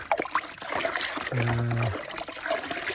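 Warm water trickles and splashes steadily into a container nearby, for dissolving chicken vitamins, a soft liquid stream running under a noisy background.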